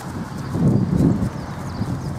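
Hooves of a blue roan overo horse clip-clopping on the ground nearby at a steady working pace, a short stretch of rhythmic thuds with no speech over them.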